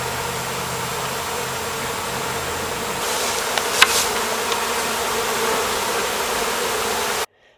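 A honeybee swarm clustered on a branch buzzes steadily and close, a continuous dense drone with a brief sharper rustle midway before the sound cuts off.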